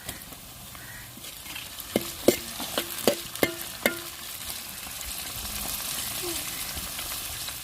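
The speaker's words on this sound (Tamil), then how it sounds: "வெங்காயம் ஓரளவுக்கு வெந்து வந்துருச்சு நம்ம வெட்டி வச்சு தக்காளியை சேர்த்துக்கிறோம்" Chopped tomatoes added to frying onions for egg kulambu, a soft steady sizzle with a quick run of about six sharp knocks of a spoon against the pan mid-way, then continued quiet frying.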